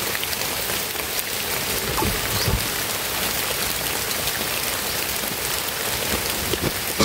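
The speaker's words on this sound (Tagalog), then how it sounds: "Lumakas yung ulan." Heavy rain pours down steadily, a dense hiss of drops pattering on surfaces with occasional louder splashes nearby.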